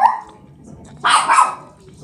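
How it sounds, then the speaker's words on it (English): A dog barks indoors in a brief, loud burst of two quick barks midway through, following a quieter stretch of low background sound. "I guess there's a dog here"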